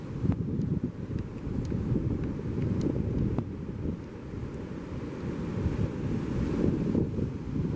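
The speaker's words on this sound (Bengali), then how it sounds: "এখান থেকে দেখেন সমুদ্রের ঢৌ কত সুন্দর লাগে" Sea waves wash onto the beach at Shah Porir Dwip, a continuous broad rushing surf mixed with wind noise, steady and fairly close, with no talking.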